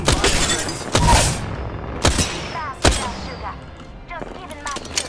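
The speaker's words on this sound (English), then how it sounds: "I am taking fire, friends." Gunfire strikes a player in the Apex Legends video game: a dense run of sharp shots and impacts with cracking, shattering bursts, loud and close, with a voice talking over part of it.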